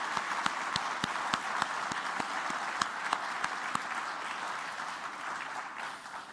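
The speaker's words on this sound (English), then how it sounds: "Let's give him a hand of applause" An audience applauds at an award ceremony, steady dense clapping with a few sharper individual claps standing out, sustained evenly before tapering slightly at the end, with no talking.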